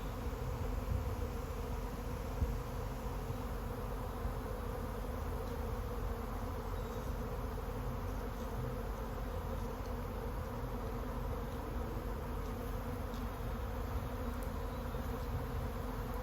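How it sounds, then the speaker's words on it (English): A swarm of honey bees buzzing outdoors, a dense, continuous drone that holds steady throughout with no speech. "This is what a honeybee swarm looks like before they cluster somewhere nearby."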